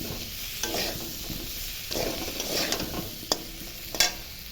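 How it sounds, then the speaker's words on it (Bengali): Potatoes frying in a pan with salt and turmeric give a steady broadband sizzle, broken by several scraping stirs and a couple of sharp utensil clinks near the end. No one speaks. "আলুটা একটু ভালো করে ভাজা ভাজা করবো।"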